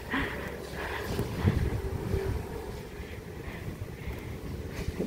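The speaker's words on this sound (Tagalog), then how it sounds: "Ganito kasi pag may bagyo." Strong typhoon wind gusting outdoors, a steady broadband roar with buffeting rushes against the microphone lasting throughout, fairly loud and continuous with no talk.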